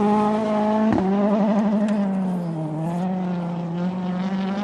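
Onboard a rally car at the 2013 Rally Finland power stage on a narrow forest track, the engine screams loud and close, pitch shifting sharply with gear changes and throttle lifts as the car carries speed.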